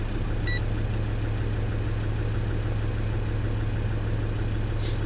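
Land Rover Discovery 2 engine idling at around 748 rpm, a steady low rumble holding even throughout, with a brief beep early on and no talk.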